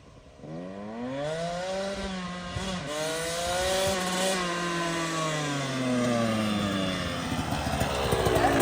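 An 85–112cc pit bike fitted with a Lectron Billetron Mini 29mm carburetor revs up through the gears, its engine pitch rising and falling in sweeping harmonics, loud and close.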